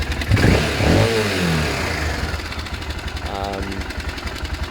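A motorcycle engine runs with a low, uneven thumping idle, revving briefly early on, while a voice talks over it.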